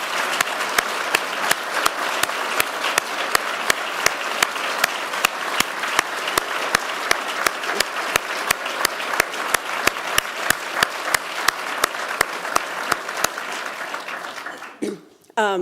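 An audience at the farewell address of the Secretary of the Interior gives sustained applause, a dense steady clapping with regular sharp claps near the microphone, fading out at the end as a voice begins.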